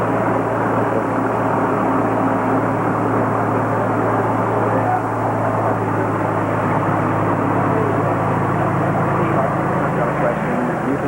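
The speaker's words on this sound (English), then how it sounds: "Rather than talk over the airplane here, we'll wait till he's gone." A propeller airplane flies low overhead at a Dragonfly Q2 fly-in near Ottawa, Kansas, its loud, steady engine drone filling the air throughout before beginning to fade near the end.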